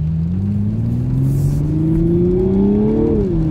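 A 2022 Toyota Supra's engine revs steadily while driving, a loud, continuous rumbling drone that climbs gradually in pitch for about three seconds, then drops off near the end, with no talking over it.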